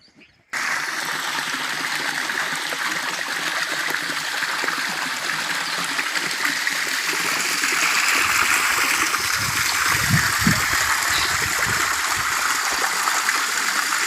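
Irrigation water from a well and a holding tank pours steadily into a garlic field, a continuous rushing, splashing flow that grows slightly heavier partway through and plays alone without voices.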